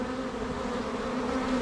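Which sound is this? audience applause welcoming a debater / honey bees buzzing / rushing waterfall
honey bees buzzing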